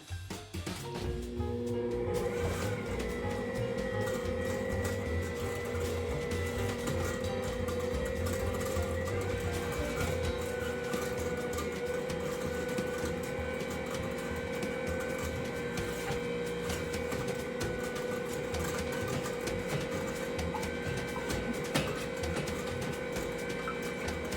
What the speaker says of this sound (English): Turn it on and give it a mix.